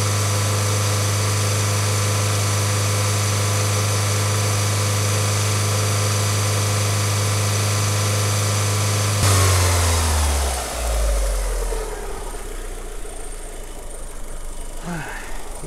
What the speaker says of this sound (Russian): И опять холостой ход после этих издевательств.